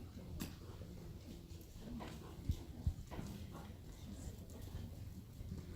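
A ridden horse walks on during a riding clinic, its hooves clip-clopping in a steady, moderately close rhythm against low background rumble, with two sharper knocks standing out midway.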